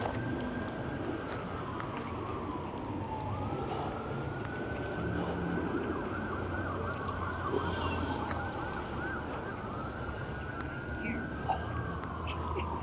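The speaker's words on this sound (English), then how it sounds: "And then we even have an ambulance here" A wailing ambulance siren rises and falls repeatedly at a moderate distance in an entertainment district, sweeping through long cycles over steady outdoor background noise and light wind.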